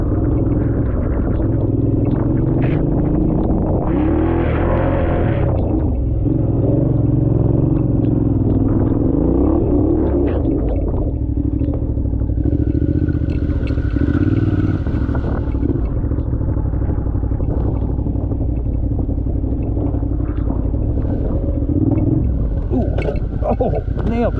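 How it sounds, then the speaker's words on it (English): A Suzuki V-Strom, a big heavy adventure motorcycle, rides a rough single-track trail, its engine rumbling loudly and surging with clatter and knocks over the terrain, with no break in the sound. "I'm gonna rip a short loop here, see what she's like on this big heavy bike."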